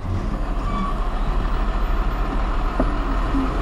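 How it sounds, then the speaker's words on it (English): Heavy vehicle engines idle and rumble steadily in a traffic jam on a narrow, sharp-cornered Bhutanese mountain road where two vehicles cannot pass, a constant low drone with a brief clunk near the end. "There's a jam here, 2 vehicles not able to pass by."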